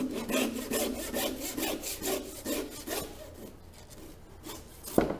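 A handsaw cuts through a lamb carcass to take off the shoulder, rasping in a steady rhythm of about ten back-and-forth strokes up close, ending with a sharp knock.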